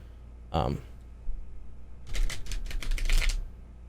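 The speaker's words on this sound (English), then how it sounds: "I am going to do one shuffle once again, just so we don't get a bunch of cards from the same arcana again." Large tarot cards, bigger than ordinary playing cards, are shuffled in a single riffle: a brief papery burst, then a quiet pause, then a longer run of quick flutters and snaps, heard close up.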